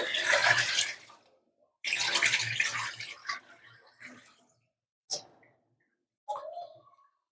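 Homemade butter being washed in water for a second rinse, with two loud bursts of sloshing and splashing followed by softer scattered drips and clinks, up close.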